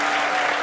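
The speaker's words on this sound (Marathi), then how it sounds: "एकदा जोरदार टाळ्या तुमच्यासाठी." A studio audience at a Marathi television show breaks into loud, dense clapping that fills the short moment evenly, close and sustained, with no talk over it.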